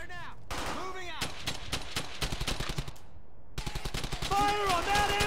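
An MG-42 machine gun rattles in the World War II shooter Brothers in Arms: Hell's Highway. Rapid, evenly spaced bursts come up close and loud, broken by a short pause and then resumed with more distant combat noise.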